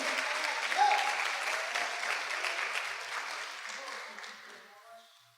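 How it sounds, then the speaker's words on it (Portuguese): A crowd at a church service applauds warmly, clapping loudly at first and then gradually thinning and fading away. "Uma salva de palmas para Jesus"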